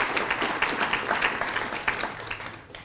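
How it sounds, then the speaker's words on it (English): Audience applause at a State of the City address, a dense wash of clapping from a crowd that holds steady and then fades toward the end. "the city staff deserves a round of applause"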